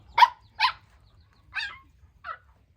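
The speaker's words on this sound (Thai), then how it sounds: "หมาไปมาเห่า" A dog barks four times in separate bursts, fairly close and loud against a quiet rural background, with no talk over it.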